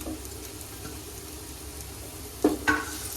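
Ginger garlic paste dropped into hot oil with curry leaves, frying for an egg masala: a steady low sizzle throughout, then two sharper crackling bursts near the end as the paste hits the pan.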